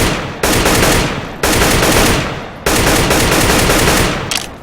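Three bursts of AK-47 gunfire in Counter-Strike: Global Offensive, each a loud sharp crack followed by a long decaying echo, fired one after another with roughly a second between shots.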